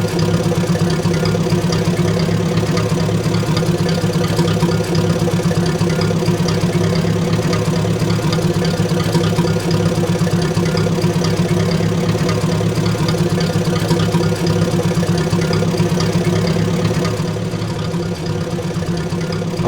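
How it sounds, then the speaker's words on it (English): Steady, droning tractor engine idling in the simulation game Nimitz, a constant low rumble with a knocking pulse, continuous and close, with no voices. "Let's hop on to the parallel tractor"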